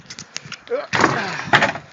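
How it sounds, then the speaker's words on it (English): A door shuts with a short scrape followed by a solid thud and a second knock, close and fairly loud, with muffled sounds around it. "There's the door."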